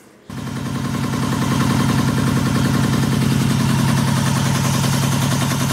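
Warmed-up cafe racer motorcycle engine that starts right away and settles into a loud, steady, throbbing idle, close by with no talk over it.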